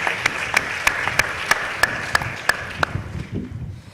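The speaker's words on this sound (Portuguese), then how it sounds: "Aplauso para" A handful of people at a pre-university information evening clap in a slow, regular beat of crisp individual claps that thin out and stop after about three seconds, with faint room noise behind.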